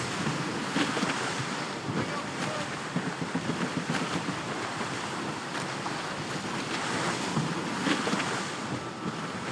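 Steady wind and rolling sea waves surround a sailing ship at sea in Assassin's Creed Rogue, a constant broadband rush with gusting swells and no speech.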